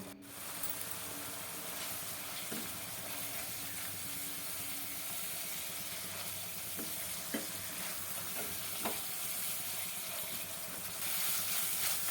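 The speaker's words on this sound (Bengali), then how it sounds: "খুব ভালো করে এটাকে আমি কষিয়ে নেবো" Small kachki fish sautéed with cumin powder in a pan, giving a steady, close sizzle throughout with occasional scraping knocks of a stirring spoon.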